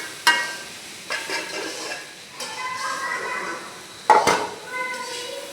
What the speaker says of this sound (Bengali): বেগুনটা দিয়ে ভালোভাবে নাড়াচাড়া করে একসাথে মিক্স করে দিলাম